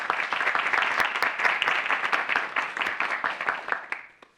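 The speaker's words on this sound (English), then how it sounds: "Please receive and welcome our guests with a round of applause." An audience at a university lecture symposium in a chapel applauds to welcome guests, dense clapping that holds steady and then thins out and fades over a few seconds.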